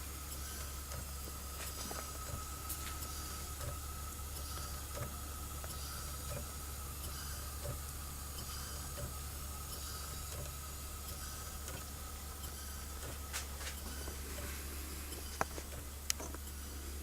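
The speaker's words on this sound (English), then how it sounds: "I'm going to fire it up, steam it off my boiler here" Stuart Turner walking beam steam engine running on steam from a boiler, a steady continuous hiss with a low constant hum and faint rhythmic ticking throughout, with no voices.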